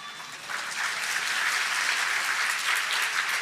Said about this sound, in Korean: 반응 보이려니까 이제 박수도 치는군요